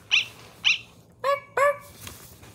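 A snow puff dog in a video game gives four short, bright, yappy barks in two pairs, the later ones lower and more tonal, over a quiet musical background.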